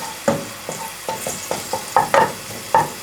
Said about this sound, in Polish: Czosnek zaczyna skwierczeć.